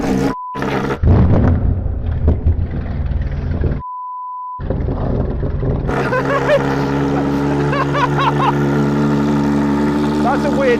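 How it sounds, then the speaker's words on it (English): A Gordon Murray T50 supercar engine cold-starts. Beeps and an odd starter whir come first, then the engine catches and settles into a loud, steady idle with rising revs, while voices talk briefly over it. "Let's do a cold start"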